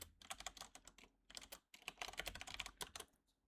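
Computer keyboard keys clatter in quick, irregular bursts, close and crisp, with a brief pause partway through and no talk.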